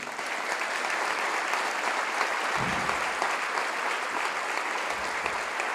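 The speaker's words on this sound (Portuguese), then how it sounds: "Dá um aplauso ao Senhor." A church congregation applauding during a worship service, a steady, even wash of clapping from many hands that carries on without pause, heard at a moderate distance.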